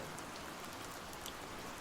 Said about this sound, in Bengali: বাইরে বৃষ্টি পড়ছিল টিপটিপ করে